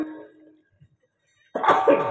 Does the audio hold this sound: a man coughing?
yes